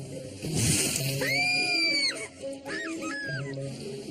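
A woman learner driver screams while driving, a long, loud, high-pitched wail that rises, holds and breaks off, followed by a shorter second cry over steady engine and cabin noise.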